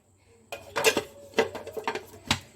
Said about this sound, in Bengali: নুন দিয়ে আমি সবগুলোকে একটু নাড়িয়ে দিচ্ছি।